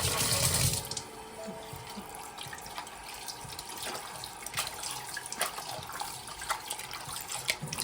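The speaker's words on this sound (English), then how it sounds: "we are going to wash the lemon out of the meat like this." Tap water runs steadily over pork chops as lemon juice is rinsed off them in a kitchen sink. A louder splash opens the clip, then a continuous moderate wash with no talking.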